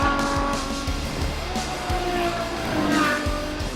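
A Ferrari GTC4 Lusso with a new exhaust manifold revs loud and close, its engine and exhaust rising in a bright, snarling note with harmonic sweeps and a slight tire-squeal edge.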